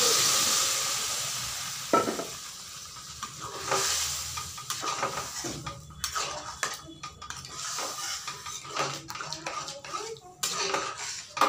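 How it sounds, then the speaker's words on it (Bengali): Tarka dal hits a hot pan with a loud hiss of sizzling, then steady frying crackle broken by repeated scraping and clanking strokes of a spoon stirring, up close. "কষানো হয়ে গেছে, এখন আমি দিয়ে দিব তরকা ডাল।"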